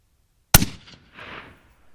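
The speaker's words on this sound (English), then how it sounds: "It's always the last shot that doesn't want to come out of that mag." A single loud, close rifle shot from a custom Kelbly-Preece build chambered in .223 Remington, firing a reloaded round, cracks out sharply. A short echo and range ambience follow.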